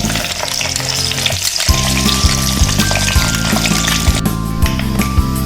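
Fenugreek seeds added to hot oil after mustard seeds for a Kerala-style fish pickle, a loud close sizzle that sharpens with a burst partway, joined by rhythmic utensil knocks and clinks against the pan.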